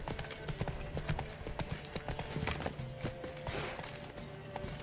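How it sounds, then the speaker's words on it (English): Horse hooves clip-clopping at a steady canter rhythm for Roach in The Witcher 3 video game, continuous and fairly close, with occasional game sounds and faint background noise. "Come on, Roach. I can only canter."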